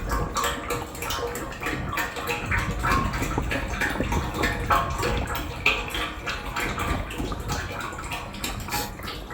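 Hydraulic oil pours into the tank of a Link-Belt excavator, a steady gurgling, splashing flow that holds for several seconds, close and fairly loud, with no talk over it.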